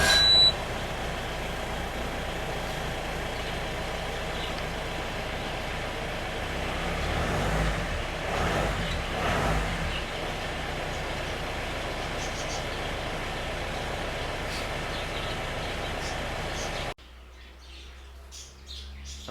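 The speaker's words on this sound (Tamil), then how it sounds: "வண்டி ஸ்டார்ட் பண்ணுறேன், எப்படி சவுண்டு வருதுன்னு பாருங்கள்." An original, modified Jeep Willys engine runs with a steady, fairly loud broadband rumble, swelling briefly in the middle before cutting off sharply near the end, leaving quiet background with faint bird chirps.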